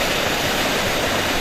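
A waterfall at Kokok Putek in Lombok, set among rocks, gives off a dense, unbroken roar of falling water, loud and close, with no voices over it.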